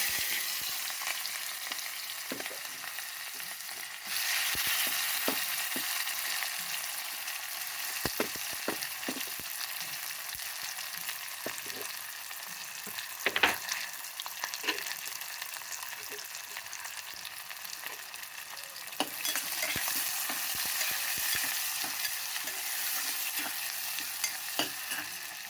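Mutton pieces with tomatoes, onions and green chillies frying in hot oil, a steady crackling sizzle broken by scraping stirs of a spoon in the pan, close and continuous with no talking.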